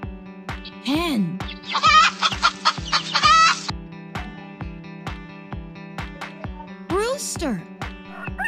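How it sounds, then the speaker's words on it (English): A hen clucks in a rapid, close run of sharp calls in the middle, over a rhythmic musical beat, with brief swooping tones before and after. "Hen."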